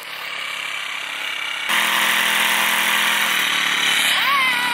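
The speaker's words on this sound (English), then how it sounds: "outside weed eating right now, or lawn trimming, I should say." A string trimmer cuts grass on a home lawn, its motor whining steadily and close by, then stepping up to a louder, harsher pitch partway through and holding there.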